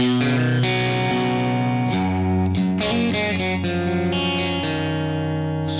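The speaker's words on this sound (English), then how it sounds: "you throw on some chorus with this" Electric guitar in the middle pickup position plays chords and picked notes with a shimmering, swirling chorus effect and slight distortion, continuously and close.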